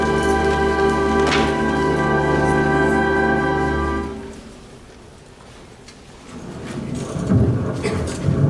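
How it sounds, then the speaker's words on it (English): A thunderstorm with heavy rain and rumbling thunder, loud and steady, then a quieter lull before the downpour and thunder swell again near the end. "First snow, and now this threatening storm."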